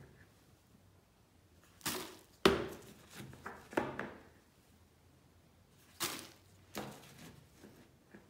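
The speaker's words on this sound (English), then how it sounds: "After I add the coffee filters, I go ahead and I start adding soil" Potting soil poured and scooped into a pot lined with coffee filters for starting elephant ear bulbs, heard as several separate soft rustling, thudding pours with quiet pauses between them.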